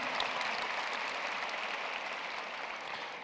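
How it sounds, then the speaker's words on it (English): Broad, sustained applause from a large crowd at a high school commencement ceremony, heard from a distance and fading slightly toward the end. "Please give this distinguished group a round of applause"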